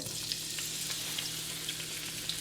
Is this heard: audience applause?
no